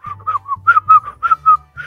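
A person whistles a quick, lively tune in a run of short, bright notes, close and clear, with no talk over it.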